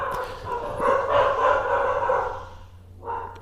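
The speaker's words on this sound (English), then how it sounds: "just dog barking" A dog sound effect plays as several quick yips and barks blending into a whiny, close rising cry, with a short extra bark near the end and no speech.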